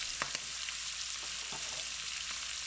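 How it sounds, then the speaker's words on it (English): Pork belly browns in a hot pan with a soft, steady frying sizzle and a few light clinks and stirring scrapes, faint but close, with no one talking. "It will take about 3 to 5 minutes to get all sides browned."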